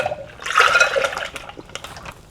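Water poured off jars of canned tomatoes, a brief splashing gush that swells and then trickles away into scattered drips, close and with no talking.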